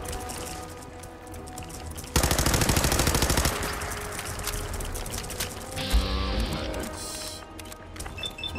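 Gunshots in Fallout 4 combat: a loud, rapid burst of automatic fire breaks in suddenly, then gives way to scattered shots, mechanical clatter and game effects, with a player's voice in places.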